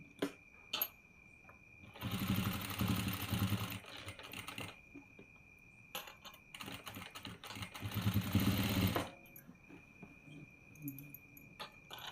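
A sewing machine stitches a quilt block pieced from fabric scraps, running in two steady whirring bursts of a few seconds each with quiet pauses between, close by.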